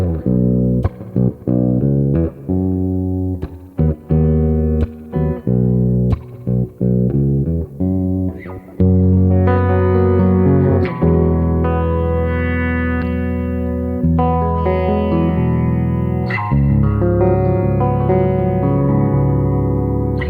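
Low-tuned baritone guitar in B, a fifth below standard, played through effects with distortion, echo and chorus: choppy muted chugs and stabs, then sustained ringing chords, loud and close with no voices.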